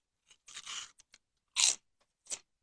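Crunching and chewing of dry, rice-cake-like cinnamon protein chips: a few separate close bites and crunches with short pauses between, loud and alone without talk.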